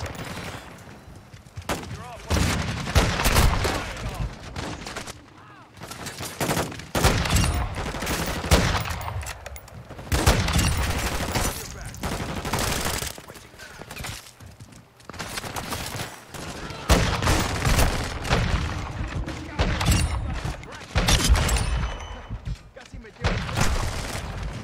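Continuous heavy gunfire from an SPR rifle and other weapons in a shooter video game firefight on the Shipment map, loud and dense with repeated shot bursts throughout, with speech mixed in.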